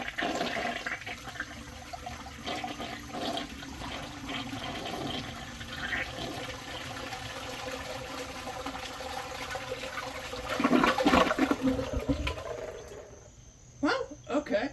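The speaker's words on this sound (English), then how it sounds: "If it had a better flush, then I think it would easily pass this, but with how this flushes, I don't know." A 1992 sixth-generation American Standard Cadet toilet flushes with a long rushing swirl of water that builds and surges near the end, then drains and gurgles away, recorded close up.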